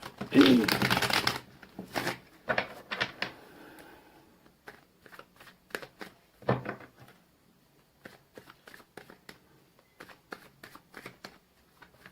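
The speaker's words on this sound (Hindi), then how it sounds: "6 कार्ड्स यहाँ से निकालेंगे और 3 कार्ड्स दूसरे डेक से निकालेंगे गाइस" Tarot cards shuffled by hand, a loud riffling burst at the start followed by repeated softer card slides, snaps and taps as cards are drawn from the deck, fairly close with no speech.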